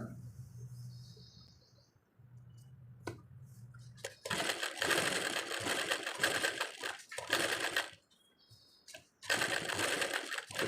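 Sewing machine stitching maggam embroidery work with no presser foot, loud rapid whirring bursts of running stitches separated by short pauses, with faint bird chirps in the background.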